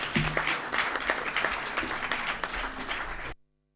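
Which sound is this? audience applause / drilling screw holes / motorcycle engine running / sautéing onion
audience applause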